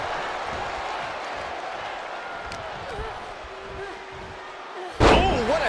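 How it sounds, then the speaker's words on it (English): Wrestling hip toss slam in the WWE 2K24 video game, a single sharp loud impact near the end, with a crowd roar after it over steady arena noise and a commentator speaking. "Oh, what a hip toss."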